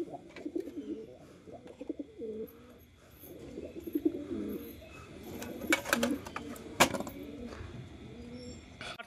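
Pigeons cooing softly in short repeated phrases, with chirps and occasional wing flaps as the flock is let out to fly, a few sharp bursts standing out over a steady outdoor background.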